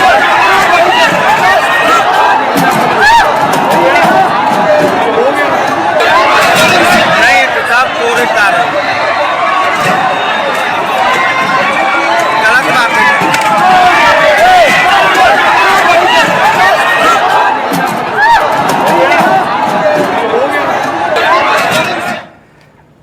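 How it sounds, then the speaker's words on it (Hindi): A large, unruly political rally crowd for Pawan Singh in Madhubani, Bihar, roars in continuous uproar, with dense overlapping shouting and chatter sustained loudly throughout before cutting off abruptly at the end. "बेकाबू भीड़ ने कुर्सियां तोड़ दी"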